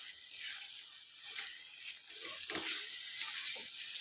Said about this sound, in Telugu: ఇప్పుడు ఇవన్నీ ఇట్లా మంచిగా ఒక 2 నిమిషాలు ఆయిల్లో ఫ్రై చేసుకోవాలి మనము